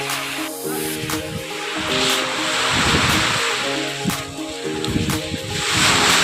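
Steady rushing surf and spray of the sea off Mindoro fills the scene, swelling and easing in waves, with a low rumbling hum underneath.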